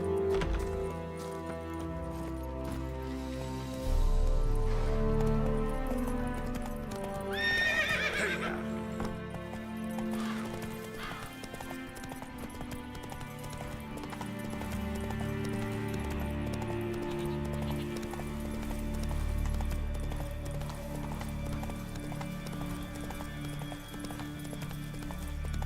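Horse hoofbeats and whinnies from the mount in the Witcher 3 video game, set against a continuous orchestral score, with a prominent neigh partway through and steady clip-clop throughout.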